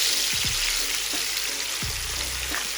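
Garlic, pepper and thyme fry in hot oil for escovitch sea bass, giving a steady, close broadband sizzle that runs throughout, with a few low knocks from a utensil against the pan.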